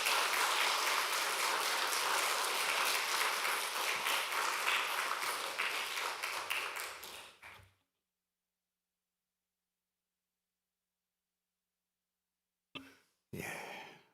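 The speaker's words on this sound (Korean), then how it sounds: "우리 그 마음으로 뜨거운 박수로 우리 교수님 맞이하면 좋겠습니다" Warm applause from a church congregation welcoming a visiting pastor, a dense, steady roomful of clapping for about seven seconds that fades out, followed by silence and a brief faint sound near the end.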